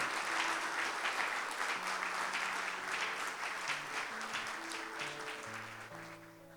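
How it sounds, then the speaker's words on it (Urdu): A church congregation at a Sunday service claps hard for God, a sustained burst of applause that stays strong throughout, with soft sustained keyboard notes playing beneath it. "زوردار تالیاں اپنے خدا کے لیے۔"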